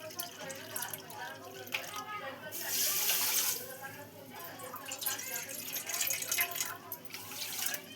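Water poured from a bowl onto sugar to make jalebi syrup, a steady splashing trickle with a louder rush midway, close by, mixed with faint background talk.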